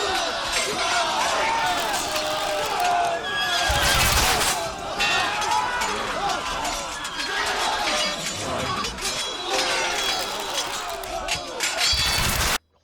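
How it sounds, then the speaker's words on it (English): Battle sound effect of horses and clanking swords, a dense, loud din of clashing metal, bursts and crowd-like noise with sharp crashes near four and twelve seconds, while a voice talks over it. "Horses, Yes. swords clanking."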